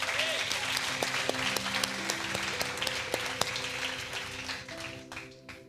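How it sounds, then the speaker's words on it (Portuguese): A church congregation at a celebration service claps and applauds in a sustained, even wash, with music tones faintly sounding beneath and the applause fading toward the end. "Aplauda ao Senhor por isso."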